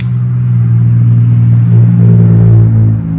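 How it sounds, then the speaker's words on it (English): Car engines rumbling and revving outside a house, a loud, continuous low drone with a slight swell in the latter half, no voices. "there's so many cars that just think that they're race cars. And so they just always have their motors revving"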